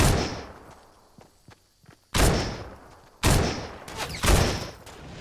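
Sniper rifle shot in the Fortnite video game: after a quiet stretch of faint clicks and thumps, several loud, sharp blasts with ringing tails hit close, the last two in quick succession.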